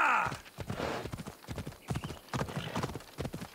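Rapid clip-clop of horse hooves galloping in the video game Assassin's Creed Odyssey, opening with a short neigh, loud and steady throughout.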